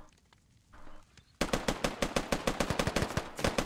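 Gunfire in the shooter game Operation: Eagle Peak, with a quiet stretch and then a sudden rapid string of sharp automatic shots, loud and close, in a steady fast rhythm.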